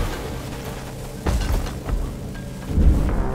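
Deep rumbling thunder in Deep Rock Galactic, two low booming rolls swelling over a steady background, moderately loud.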